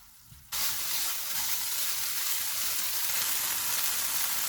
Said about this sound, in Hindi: अब हम चूल्हे को लो टू मीडियम कर देते हैं और इसको ऑयल अलग होने तक भून लेंगे